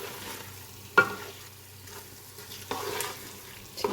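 Spoon gently stirring gobi aloo, cauliflower and potato, in a pan, with a few sharp scrapes and knocks over a soft sizzle; near and fairly quiet, no talking.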